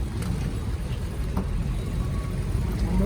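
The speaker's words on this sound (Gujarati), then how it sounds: "ભાઈ ગાડી આવી ગઈ છે ને હવે આપણે આમાં બેસીને જવાનું છે" A car rumbling steadily close by as it arrives, a constant low engine drone with faint outdoor noise and no clear talk.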